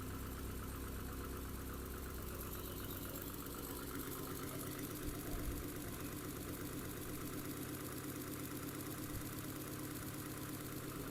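A car engine idles after a radiator replacement, a faint, even, continuous rumble with a rapid uniform pulse, steady throughout with no other sounds.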